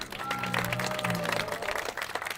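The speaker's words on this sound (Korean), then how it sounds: "박수 한번 다시 주십시오." Crowd applause at a construction workers' rally and cultural festival at Sangnoksu Station, brief and fairly loud clapping with voices and a shout-like tone running through it.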